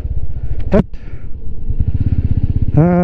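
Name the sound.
motorcycle riding uphill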